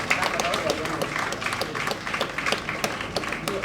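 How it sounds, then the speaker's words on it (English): Audience applause greeting a panelist arriving at a public dialogue on political financing in Ghana: dense, steady clapping throughout, fairly close and moderately loud, with no clear speech over it. "Let's welcome him with a round of applause."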